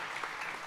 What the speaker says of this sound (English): please join me in giving these gentlemen a round of applause